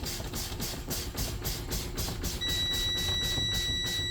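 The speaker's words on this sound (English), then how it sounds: "My buzzer, my low air pressure buzzer and indicator came on." A truck's low air pressure warning buzzer sounds steadily over a pulsing, hissing air noise and low engine rumble, holding a constant tone once it starts.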